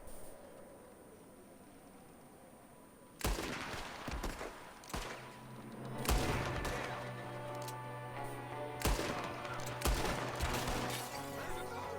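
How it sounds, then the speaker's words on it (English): Gunfire in Red Dead Redemption 2, a sudden outbreak of loud shots and volleys after a quiet stretch, with repeated sharp bangs and rattling bursts continuing to the end. "There's another one shooting from the window."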